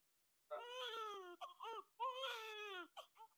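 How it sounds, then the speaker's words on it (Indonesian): An infant cries in two drawn-out wailing bursts, each trailing off into short sobbing whimpers, close and clear with no other sounds. "tadi kenapa ada suara tangisan bayi?"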